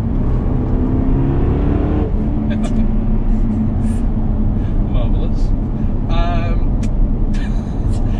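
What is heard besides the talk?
sports car engine revving through gears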